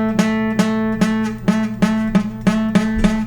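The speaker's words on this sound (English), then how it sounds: "kind of buzzy or muffled sounding, it's probably a finger placement issue" An acoustic guitar chord strummed with poor finger placement, sounding buzzy and muffled; about eight evenly spaced strums repeat in a steady rhythm, close and clear with no talking.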